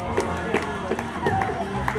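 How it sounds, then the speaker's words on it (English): Crowd at a float parade applauding and cheering the floats, a steady wash of clapping with scattered shouts and talk mixed in, fairly close and sustained throughout. "A nice round of applause for all of our floats today."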